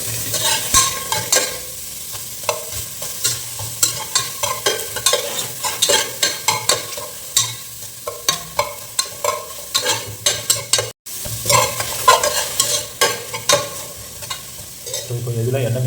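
Beef slices frying in a dry pan without oil, with a steady sizzle and repeated scraping, clattering stirs throughout, loud and close.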